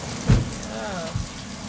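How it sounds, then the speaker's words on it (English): Steady rain falls outdoors in an even, hissing wash, with a couple of soft low thumps and a faint voice-like murmur underneath. "Get the vibe of the rain."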